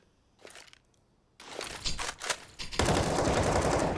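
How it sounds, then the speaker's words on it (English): Gunfire in Counter-Strike: Global Offensive on the Dust2 map during a professional esports match, heard as scattered shots and then sustained rapid automatic bursts growing louder and denser toward the end, with no talk. "They can fire off shots."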